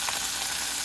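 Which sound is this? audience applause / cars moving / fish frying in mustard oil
fish frying in mustard oil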